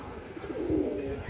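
A racing pigeon arriving at its loft after a 175 km training flight gives a short, low, close coo amid faint background noise.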